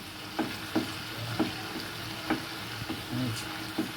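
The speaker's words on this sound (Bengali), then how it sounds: "শুকনো লঙ্কাটা ভাজা হোক, ভাজা হলে পরে আমি মশলাটা দেবো" Dried red chillies fry with taro greens and chickpeas in a pan, a soft steady sizzle broken by a few sharp spoon-stirring clinks at uneven intervals, close and fairly quiet.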